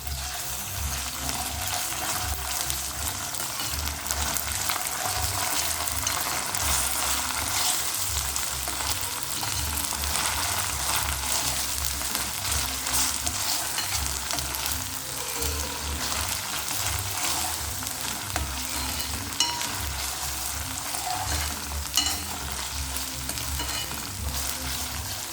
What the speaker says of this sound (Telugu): ఇప్పుడు మనం ఈ ఉల్లిపాయల్లోకి అల్లం వెల్లుల్లి పేస్ట్ అయితే వేసుకుందాం.